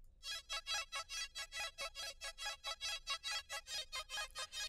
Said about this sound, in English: that groovy bounce type of sound with an ARP